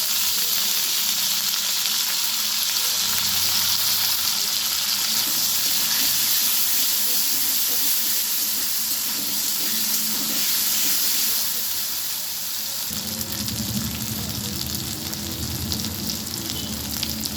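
Ginger, garlic and onion paste added to a frying pan after potatoes, giving a loud steady hissing sizzle that later shifts to a lower bubbling crackle as it cooks.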